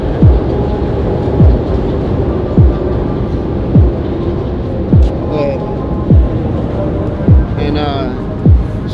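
A loud, continuous rumble of a passing train in Kensington with regular heavy thumps about once a second, and faint voices now and then.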